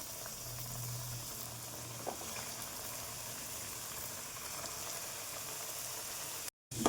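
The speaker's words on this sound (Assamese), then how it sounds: "আমাৰ তেল গৰম হৈ গৈছে, আৰু ইয়াত মই এটাকৈ দি দিম।" Broiler chicken meat pieces fry in hot oil, a steady even sizzle that holds at one level throughout, close by and without talk.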